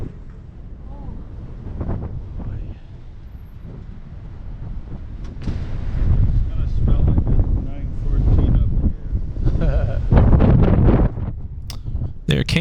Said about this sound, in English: you will not believe how strong these winds are up here